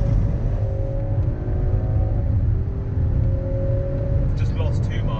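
Land Rover Defender 130 eight-seater with around 400 bhp accelerating hard in sport mode, a steady loud engine rumble with rising tones over the full five seconds.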